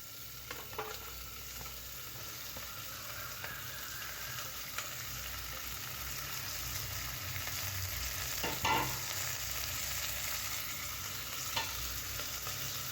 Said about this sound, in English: now add carrot and beans.